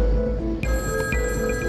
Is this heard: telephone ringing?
yes